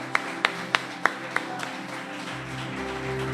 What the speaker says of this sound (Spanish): ¿Cuántos levantan un aplauso a Él con todas tus fuerzas?